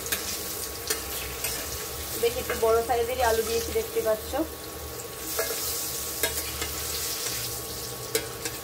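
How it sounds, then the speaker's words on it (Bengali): Large pieces of potato frying in oil, a continuous close sizzle with scraping stirs and someone talking over the cooking. "আলুটা এবার ভাজা হোক।"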